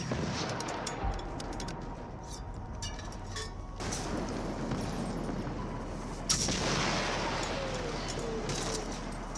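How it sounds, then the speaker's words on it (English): Gunfire from an M49 rifle in Generation Zero tears into robots, with repeated sharp shots and metallic clinks over a steady low background rumble, one louder burst standing out near the end. "Swap to your M49 and destroy the traps and the robots near the shield generator."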